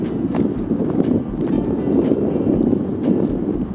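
November wind on a hilltop above Hohenlimburg buffets the microphone with steady low rumbling gusts and no other clear sounds.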